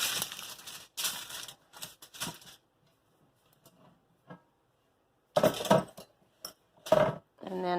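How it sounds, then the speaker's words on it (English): Aluminum foil being wrapped around a tomahawk steak, with bursts of close crinkling and rustling broken by short pauses. "wrap it in aluminum foil"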